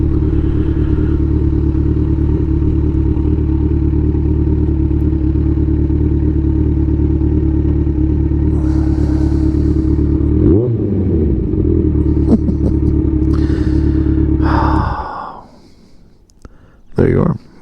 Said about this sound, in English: with the 2016 Kawasaki Ninja 1000. Wonderful sports touring bike.